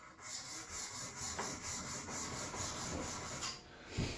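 Old spoke shave iron rubbed back and forth on a 1,000-grit sharpening stone, a steady close gritty scraping in repeated strokes with a short pause near the end.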